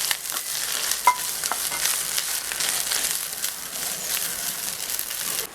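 Grated coconut stirred and fried with urad dal in a pan, giving a steady soft crackling sizzle with light scraping and crinkling textures throughout, no talking.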